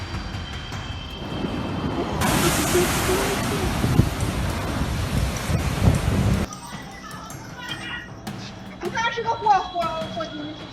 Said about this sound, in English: Waves roared and foamed violently